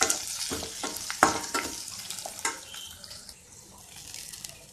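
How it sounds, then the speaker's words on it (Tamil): Curry leaves sautéing in a pan at low heat, crackling and sizzling with scattered stirring clicks and scrapes, close and moderately loud, fading to a softer steady fry toward the end. "கறிவேப்பிலை ஒரு 2 மினிட்ஸ்க்கு வந்து அப்படியே வதங்கட்டும்."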